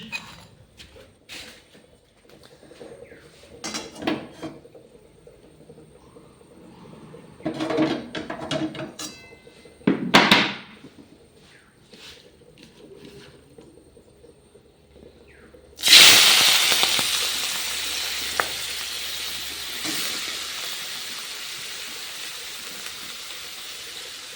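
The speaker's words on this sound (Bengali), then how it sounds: "এই যে চিংড়ি মাছ এটাকে ভাজতে হবে তেল গরম হয়ে গেছে" Prawns dropped into hot oil set off a sudden loud sizzling hiss that slowly fades but keeps crackling. Quiet kitchen clatter comes before it.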